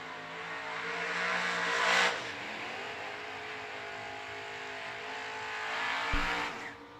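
Vintage race cars, including a roadster, lapping a track at a Twin Fifties racing event, their engines a steady, loud roar that swells as cars pass near two seconds and again near six seconds.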